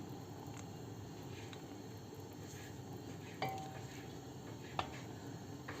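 A spoon stirring olive oil into walnut ezme sauce in a pan, a soft continuous scraping and faint sizzle with two sharp clinks of utensil against the pan.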